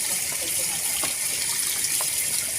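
Tap water gushes steadily as salted chicken is rinsed under it, a close, continuous hissing stream with faint splashes and handling noises.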